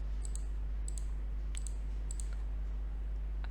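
Computer mouse and keyboard clicks come in small paired bursts, crisp and close, spaced irregularly over a steady low electrical hum while someone works in AutoCAD.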